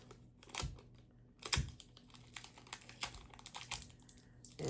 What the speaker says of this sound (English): Let's cut off some little pieces.